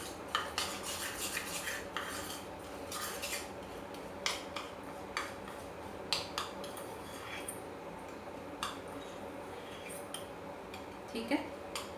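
A spoon mixes crushed tomato chips into melted chocolate in a bowl, giving faint, repeated metallic clinks and scrapes at an irregular pace against quiet background noise.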